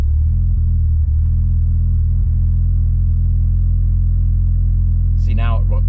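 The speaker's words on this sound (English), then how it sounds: "So clutch in, no gas, and start the car, let off the gas" A Mitsubishi Evo 5 engine runs at a steady, loud low rumble just after starting, and a voice comes in briefly near the end.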